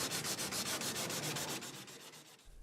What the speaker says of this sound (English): sand all through the middle until the whole surface is totally dull and well sanded